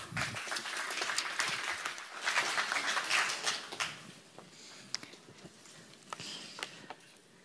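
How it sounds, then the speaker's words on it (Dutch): An audience applauds at the market opening of Dutch Food Week 2022, with sustained clapping that peaks, then thins to scattered individual claps and fades away. "Jullie hebben net ook applaus gekregen."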